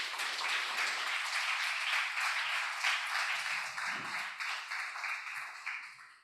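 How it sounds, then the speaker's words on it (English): Sustained applause from a conference audience fills the room, steady and fairly loud, as panelists take their seats, then tapers off toward the end. "A round of applause to them as they take their seats."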